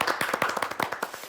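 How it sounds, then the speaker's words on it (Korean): Close, rhythmic hand clapping from an audience welcoming a speaker to a mini lecture on golf, quick even claps repeating steadily for a second or so. "그럼 박수로 한번 청해 듣도록 하겠습니다"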